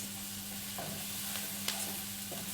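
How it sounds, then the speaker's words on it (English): An onion sizzles in a pan over high heat while a vegetarian curry is cooked. The frying hiss is steady and close, with a few light stirring scrapes and no talk. "my pan is on high now. I want it to sizzle. I want you to hear it"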